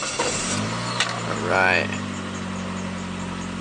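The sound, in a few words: Saab 9-3 convertible engine cold starting at 24 degrees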